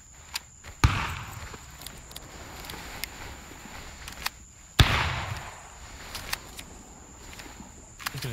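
Sharp pops and crackles scattered over a soft steady hiss, with two louder snaps standing out, from a campfire burning close by in the video game War of Rights.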